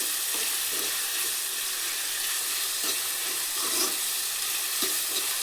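Cooked field beans (avarekalu) sizzle in hot oil in a pan while upma is being made. A steady, bright frying hiss runs throughout, with soft scraping and stirring knocks at intervals.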